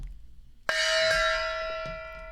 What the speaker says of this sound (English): Commander deserves a gong.